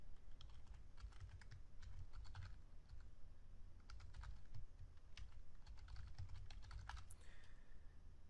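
Computer keyboard typing as code is entered, rapid irregular bursts of clicks in short clusters with brief pauses, close and moderately quiet, with steady low background hum and no talking.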